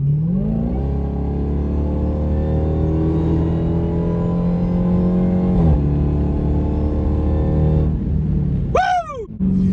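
A 2023 Dodge Demon 170 accelerates hard, its loud, close engine note climbing steadily in pitch for several seconds, then dropping with a brief shift and climbing again before fading near the end.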